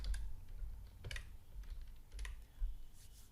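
Quiet keystrokes on a computer keyboard while entering a formula in Microsoft Excel: short clusters of soft clicks separated by brief pauses, close and faint, with no voice.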